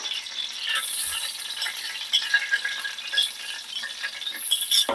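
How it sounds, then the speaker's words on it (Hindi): Sizzling and crackling of ground garlic and ginger in hot oil with occasional stirring and scraping, a steady close frying hiss with brief metallic clinks. "कुकिंग ऑयल गर्म हो चुका है, अब मैं शामिल करूंगी पिसा हुआ लहसुन और अदरक।"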